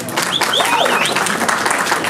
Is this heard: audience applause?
yes